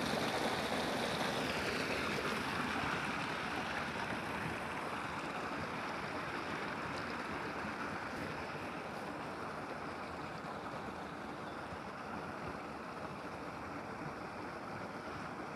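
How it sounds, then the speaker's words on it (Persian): Steady, loud rush of water flowing in a stream from the Roya wa Omid dam in Jaghori, a continuous broadband wash that holds evenly throughout with no voices. "و این هم آبی که فعلا از سمت بند رویا و امید میه"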